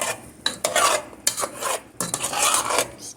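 A spoon stirs Creole spice into a pot of shrimp and grits, making close scraping and rasping strokes in uneven repeated bursts without speech.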